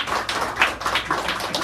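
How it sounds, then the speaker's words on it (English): A small audience at a poetry hour in a San Francisco café claps for a performer, light scattered hand claps close and lively for a brief moment. "Give her a round of applause"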